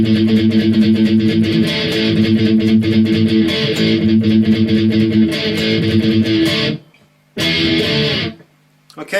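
Distorted electric guitar tearing through the intro riff of a song, loud and dense with heavy palm-muted chugging, breaking off twice into short silences before the final bursts.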